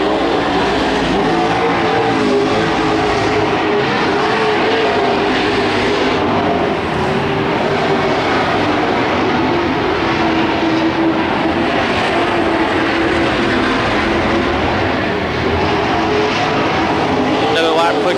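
Super stock race cars lapping Petaluma Speedway, a loud, continuous engine roar that swells and fades as the cars circle, with a commentator's voice running over the noise throughout.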